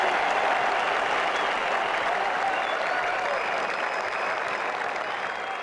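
A cricket crowd applauding a shot during an India v Australia Test match, sustained stadium clapping and cheering that swells and slowly tapers over several seconds, heard alone without commentary.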